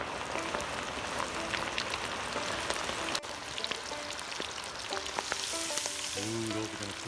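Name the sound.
fish frying in peanut oil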